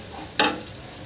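Onions, curry leaves and a dried red chili are stirred and sautéed in a pan, giving one short, fairly loud burst of sizzling and scraping against a quiet kitchen background.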